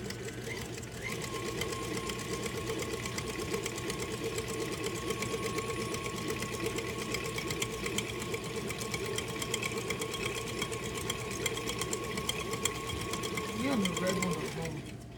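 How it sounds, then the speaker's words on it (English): An electric stand mixer hums steadily while creaming butter and sugar for cookie dough, a constant close mechanical whir running the whole time under occasional quiet talk. "so now we're gonna put them back in the mixer, mix those together."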